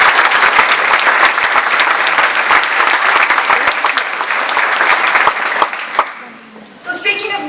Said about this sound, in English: if we could get a round of applause for our council